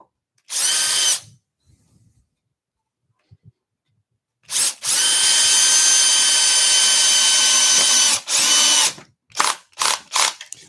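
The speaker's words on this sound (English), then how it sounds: "Let's screw straight into this side first." A power drill driving screws into a wooden bar table, loud whirring bursts: one short, then a long sustained run, followed by several quick stop-start pulses, with quiet gaps between.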